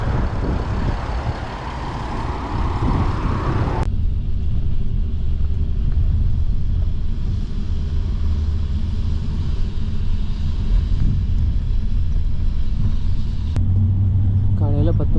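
A bus engine rumbles steadily on a road in Georgia, heading toward Tbilisi, a low continuous drone that runs through the whole stretch with a brief shift near the start and talk heard over it.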